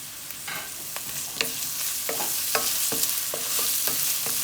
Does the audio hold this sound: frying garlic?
yes